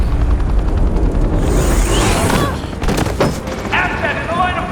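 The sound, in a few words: gunfire in Batman Telltale Series video game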